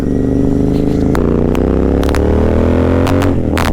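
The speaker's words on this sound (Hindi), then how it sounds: "तो बाइक मिल गई थी अपनी और अब चल रहे हैं घर की तरफ।" A GT 650 motorcycle is ridden home, its engine a loud, close, steady drone with brief shifts in pitch as it rides on.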